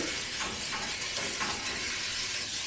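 Peppers sizzle as they start to cook in a pan for lemon penne chicken, a steady close hiss without pause and without talk.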